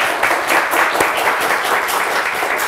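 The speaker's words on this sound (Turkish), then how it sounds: "Ondan dolayı bir alkış daha lütfen" A Turkish quiz show studio audience applauds with dense, continuous clapping at even loudness for a few seconds, with no talk over it.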